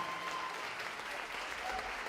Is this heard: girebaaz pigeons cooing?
no